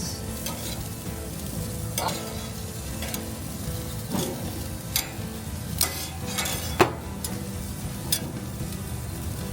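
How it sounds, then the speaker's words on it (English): Pear halves sizzle steadily on a hot grill at a Hawaii resort, a close, continuous hiss punctuated by occasional metallic taps and clinks. "I want nice grill marks on these pears just to soften them up a little bit"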